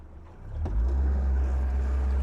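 A new Yamaha 115HP outboard on a 2002 Alumaweld 18ft Super Vee revving as the throttle opens, a deep rumble surging to a loud sustained drone, close by.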